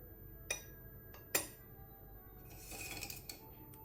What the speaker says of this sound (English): After heating the pot, and then I'm heating the cup